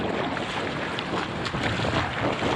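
Strong wind buffets the microphone while waves slap head-on against a stand-up paddleboard out on open water, a loud, continuous rushing roar with no pauses.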